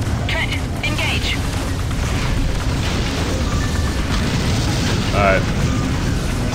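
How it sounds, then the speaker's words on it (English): Space station exploding in the Freelancer video game with the Crossfire mod: a continuous, heavy low rumble of blasts and debris rolling on for several seconds, with bursts and flashes scattered through it and a voice talking over the chaos. "The station is exploding!"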